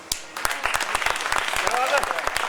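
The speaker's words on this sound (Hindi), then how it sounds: "ये सारी तालियां ये सिद्ध करती हैं कि इन सारी कवियों की लेखनी को प्रणाम करते हैं" Audience at a Hindi poetry gathering, a kavi sammelan, breaks into applause: a few sharp claps start it, then a dense, rapid patter of hands builds and carries on, with a voice speaking over it.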